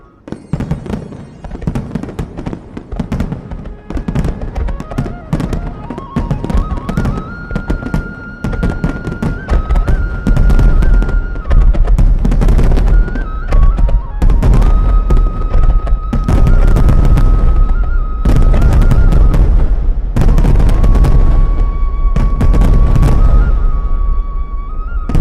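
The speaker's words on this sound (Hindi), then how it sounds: "उनके गांव में रंग बिरंगे पटाखे चल रहे थे" Diwali fireworks and firecrackers burst in dense, rapid volleys of cracks and pops over a village, with deep booming thuds joining partway through and a whistling tone rising above the din, loud and continuous throughout.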